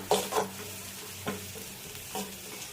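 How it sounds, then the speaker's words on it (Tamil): Spinach (palak keerai) sautés over a low flame, giving a soft, quiet sizzle with a few light stirring scrapes and taps of a spoon near the start and middle. "அதனால் நான் சிம்மில் வச்சு இதை வதக்குறேன்."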